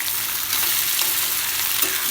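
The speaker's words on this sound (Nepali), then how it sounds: "मजाले भुट्नेलाई आलु भुजिया बनाउनुलाई खास मैले" Potatoes sizzle steadily in hot oil while being fried for aloo bhujiya, with cumin seeds already crackling in the pan; a close, continuous, bright frying hiss with faint stirring.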